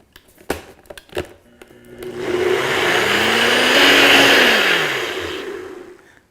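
A countertop blender whirring through crepe batter of almond flour and tapioca flour: a few sharp clicks and knocks as it is set, then a loud motor surge that builds, holds steady and fades off.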